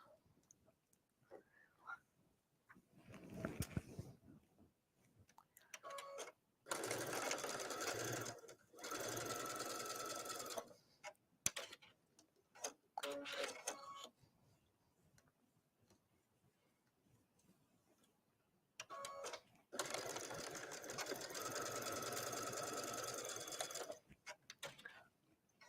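A sewing machine bastes the shoulders of a sweater in several separate bursts of fast, steady stitching, with quiet pauses between runs and faint handling sounds.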